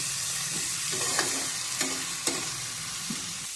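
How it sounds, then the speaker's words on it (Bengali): Onions fry in mustard oil in a pan, a constant soft sizzle broken by a few sharp scrapes and clicks of a spoon stirring them, close and with no voices. "এবারে ভালোভাবে পেঁয়াজটা নাড়াচাড়া করে লাল লাল করে ভেজে নেব।"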